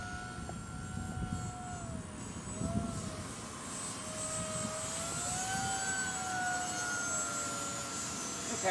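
An FMS BlitzRC Cessna 55-inch RC model airplane makes a low fast pass, its electric motor whining steadily with rising and falling pitch over wind noise, fairly loud throughout.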